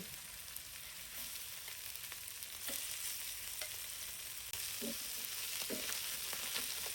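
Thin boneless chicken slices frying in a pan for ramen, a soft continuous sizzle with a few faint stirring clicks and scrapes, fairly quiet and without talk.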